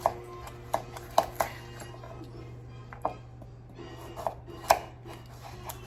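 A knife cuts tricolor carrots on a board, sharp irregular thunks spaced about half a second to a second apart, close, over a low steady background hum.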